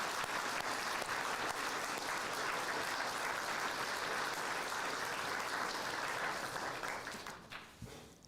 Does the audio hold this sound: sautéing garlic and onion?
no